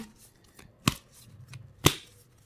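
Tarot cards shuffled and drawn by hand, two crisp sharp riffles or snaps close up with faint soft card handling between them.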